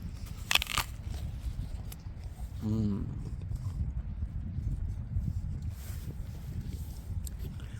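A crisp bite into a crunchy Jeromine apple, a short crackling crunch near the start over steady low background hum, followed by faint chewing; no one speaks.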